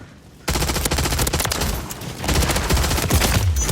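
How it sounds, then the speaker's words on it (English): Rapid bursts of AMR9 submachine gun fire in Modern Warfare 3, fitted to shoot five-round bursts, crackle loud and close in quick repeated volleys over several seconds. "the aftermarket part, it turns it into a 5-round burst SMG"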